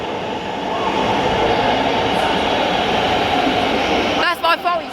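A Thameslink Class 700 electric train at London St Pancras low-level platforms gives a loud, sustained rumble and rush of wheels and motors, with brief squeals near the end.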